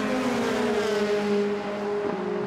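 Formula Renault 2.0 race cars at a circuit give a loud, steady high-pitched engine whine with a slight pitch dip near the end, heard alone without talk.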